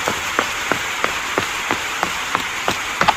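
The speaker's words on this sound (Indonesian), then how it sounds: "Mas Naren ngapain di bawah situ hujan-hujan?" Rain falls in the video game Sakura School Simulator as a steady, airy hiss broken by soft, regularly spaced ticks, with no voices over it.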